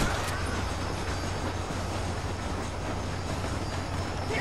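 A train rolls along in the Red Dead video game, giving a steady, loud, broadband rumble with a faint rhythmic rattle of the cars and no talk.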